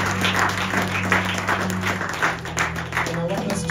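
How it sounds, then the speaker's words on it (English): Church congregation applause: steady, full-room clapping from many people, loud and continuous throughout, with a voice speaking over it. "Let us just appreciate yourself by a clap."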